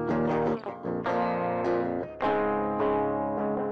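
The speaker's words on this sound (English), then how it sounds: "We can hear that the plugin effectively high-pass filters the signal, and with no drive applied, there is a mild crunch sound." Electric guitar run through a Tube Screamer-style distortion plugin with no drive, giving a mild crunch; several strummed chords ring out and decay in a slow, even rhythm.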